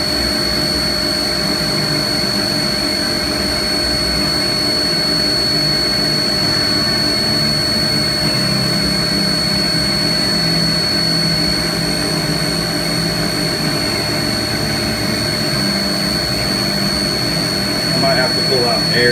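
A CNC mill's 4th axis indexes around between slots, heard as a loud, steady machine drone with a high whine and a constant hum throughout, under occasional talk.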